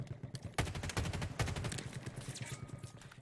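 Gunfire from the video game Halo Infinite in Big Team Battle, with several sharp shots and dense bursts of rapid fire crackling over a busy battle din, loud and close.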